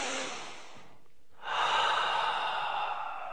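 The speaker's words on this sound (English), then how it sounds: "Take a deep breath in." A single long, audible inhale through the nose and mouth, a deep breath drawn in steadily and closely after a brief pause, with no talk over it.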